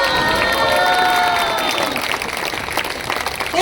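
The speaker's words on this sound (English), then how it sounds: "Let's give him a big round of applause." An audience claps and cheers for drummer Sumir at a Navratri event in Sherwood, a loud burst of applause with whoops that fades into scattered clapping.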